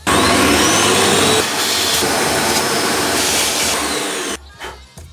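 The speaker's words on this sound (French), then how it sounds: "Je viens déjà faire un premier gros nettoyage avec l'aspirateur." A vacuum cleaner sucks dust out of an opened MacBook Pro 15-inch, a loud steady whooshing hiss that runs for about four seconds before cutting off abruptly into quieter handling noises.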